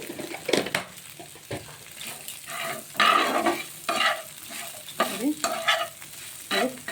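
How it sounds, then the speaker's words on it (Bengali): Paneer fries with chili powder in a pan, giving a steady close sizzle broken by repeated scraping stirs of a spatula against the pan. "দেখুন সারা এই যে পনিরটা ভাজা হয়ে যাচ্ছে"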